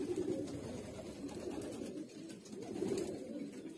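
Hünkari pigeon cooing in low, soft, rolling swells, two main phrases repeating against a faint background, with no voices.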